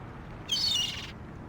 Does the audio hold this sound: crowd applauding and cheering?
no